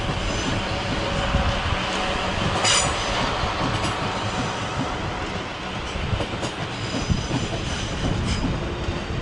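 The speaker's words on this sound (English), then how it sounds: "Meanwhile, that service to Portsmouth Harbour is now departing." Train pulling out of Clapham Junction on a service to Portsmouth Harbour, a loud, steady rumble of wheels and carriages close by, with brief squeals and rail clatter running throughout and no talking.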